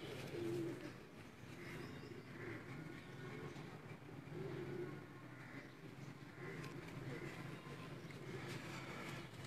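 Pigeons cooing softly in a loft, repeated low throaty coos in a loose rhythm over a steady background hum, fairly faint.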